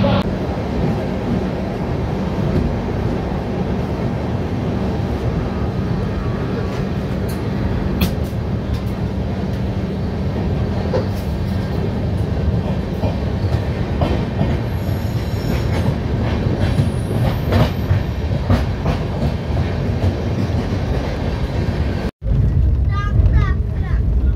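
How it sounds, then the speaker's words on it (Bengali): Shatabdi Express (12278, Puri to Howrah) departing and running, heard from on board as a continuous loud rolling rumble with wheel squeals and clatter, ending in a sudden cut near the end. "তো চলো ট্রেন ছাড়ুক"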